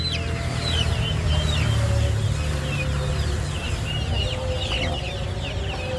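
Several free-range country chickens cluck and squawk close by at a poultry market amid a busy, noisy background hum, with repeated short calls overlapping throughout.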